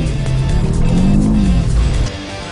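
A Nissan Kicks e-Power accelerating hard into a drift, its loud motor and tyre noise rising and swelling up close over about two seconds before easing off, with no voices.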